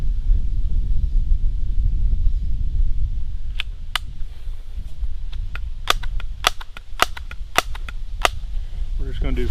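Daisy Powerline Model 35 air pistol trigger pulls: about a dozen sharp, crisp snaps at uneven intervals, close and loud over steady wind noise buffeting the microphone.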